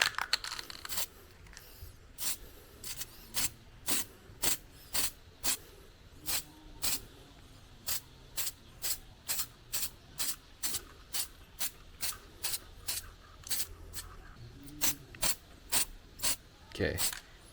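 Spray can shaken and sprayed onto the steel frame of a Honda Vario 160 scooter, giving more than twenty short, evenly spaced hissing bursts across the clip, loud and close with brief pauses between.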